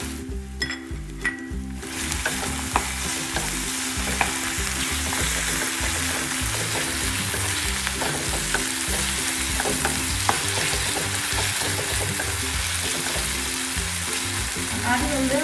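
Chopped tomato hits a hot pan and fries: a quieter start gives way to a loud, dense, continuous sizzle, with occasional stirring clicks throughout.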